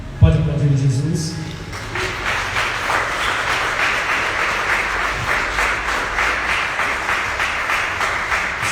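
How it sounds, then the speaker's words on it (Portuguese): A church congregation bursts into sustained applause during a service after a brief sung or spoken tone, clapping holding steady and fairly loud to the end. "Pode aplaudir Jesus."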